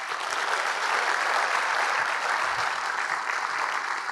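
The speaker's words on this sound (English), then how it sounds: "let's give Haley and the team at the Long Beach Business Journal a big round of applause." A dense, sustained round of applause from the audience at a Long Beach business community event, loud and even throughout, with no talking over it.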